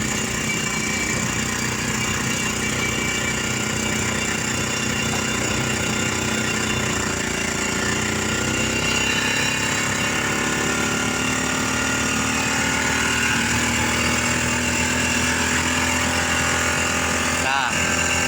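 A Suzuki Carry mini truck fitted with a Yamaha Thunder motorcycle engine runs steadily on the road, giving a continuous loud drone and rattle, with someone talking over it.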